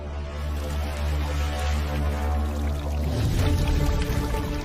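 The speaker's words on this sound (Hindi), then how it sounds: "ये पानी अंदर से आ रहा है" Water overflows from a filled bathtub and runs out in a steady pouring gush under a constant low hum, then swells louder and more turbulent toward the end.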